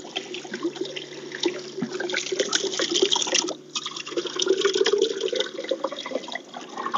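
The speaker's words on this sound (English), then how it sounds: "So here we are up at my spring. I'm going to set you here for a minute so I can fill up my bottles" Water from a fast-flowing spring in the Appalachian hills pours and splashes steadily into bottles being filled, close by, with a brief gurgling dip in the middle.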